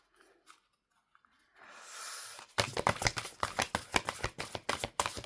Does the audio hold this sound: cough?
no